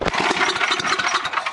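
A Tecumseh 10hp generator engine fitted with its stock muffler turns over in a start attempt, giving a loud, close, rapid chugging rhythm for a brief moment.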